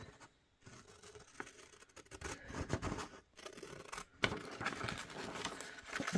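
Scissors roughly cutting paper strips for a handmade Christmas craft booklet, a run of close, crisp snips and rustling paper with brief pauses between cuts.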